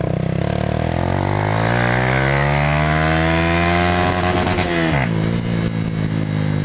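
A motorcycle engine on a dirt trail revs loud and close, climbing in pitch, holding, then dropping sharply as the throttle is released, with rattling mechanical noise throughout.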